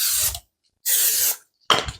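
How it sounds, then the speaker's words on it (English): Three short bursts of cooking spray from an aerosol can, each a sharp hissing puff lasting under half a second, separated by silence. "I am going to use spray with this one"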